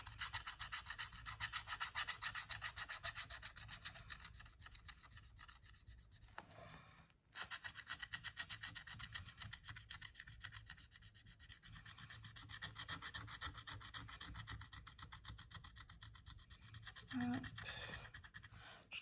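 Glitter scratch-card stickers are scratched off with steady, close rasping strokes that keep going almost without a break, pausing briefly once, while no one speaks.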